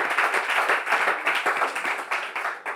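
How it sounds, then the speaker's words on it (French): Studio audience at a Bible quiz show applauds the contestants, a dense, steady burst of clapping close to the microphone, fading slightly near the end. "On peut applaudir très fort nos différents candidats."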